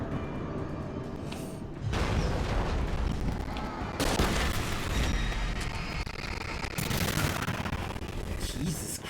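Explosion and gunfire-like booms in the video game Alan Wake: a dense, loud rumbling burst with several harsh blasts near 2, 4 and 7 seconds, the noise continuing through the whole stretch.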